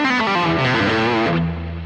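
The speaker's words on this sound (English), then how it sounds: "Now I'm going to mute the strings and also play the strings at the same time." Distorted electric guitar played with the strings palm-muted, a dense buzzing run of short chugging notes that settles into a held low tone near the end, close and loud with no voices.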